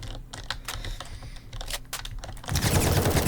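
Rapid gunfire from the video game War Tycoon crackles in dense bursts, mixed with clicky keyboard-like tapping and growing louder and busier near the end.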